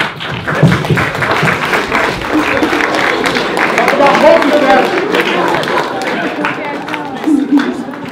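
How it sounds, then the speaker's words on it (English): An audience at a film screening Q&A applauds, a dense patter of many hands with crowd noise and voices mixed in, steady and moderately loud throughout. "Can I just ask you all to give my wife a round of applause for her?"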